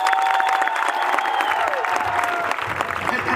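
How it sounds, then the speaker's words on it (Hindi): Loud applause and crowd cheering at a direct-selling company event, with tonal whoops and shouts rising above dense clapping that carries on throughout. "एक जोरदार तालियां होनी चाहिए।"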